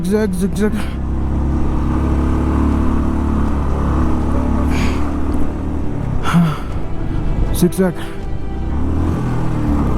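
Car engine labouring in low gear up a steep, high-altitude mountain road at Umling La, a steady strained drone throughout with people talking over it.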